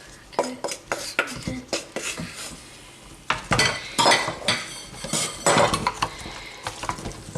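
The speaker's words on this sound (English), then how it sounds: "And I'm going to stir that around as well." A utensil knocks and scrapes through cauliflower in a pan of tikka masala sauce, giving irregular close clinks and scrapes with a brief lull in the middle, then heavier stirring.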